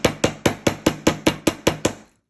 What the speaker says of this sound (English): we're going to hammer this side down. It's flattening and hardening the wire.